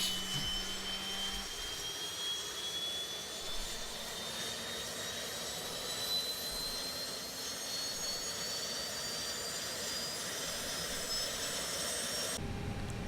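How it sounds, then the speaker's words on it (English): The APU exhaust of a ToLiss A319 airliner gives off a steady, loud jet-like roar with a thin high whine slowly rising in pitch, holding constant before a sudden shift near the end. "If you stand here, the exhaust sound coming from exhaust,"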